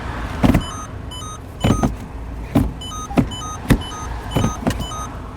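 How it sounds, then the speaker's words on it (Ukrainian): A series of distinct mechanical clicks and clunks with faint electronic chimes, repeating at uneven intervals as the Aisin automatic gear selector of a 2017 Peugeot 308 SW 1.6 HDi is moved through positions close by. "зверніть увагу, ще як переключається, як перемикає селектор, з яким звуком"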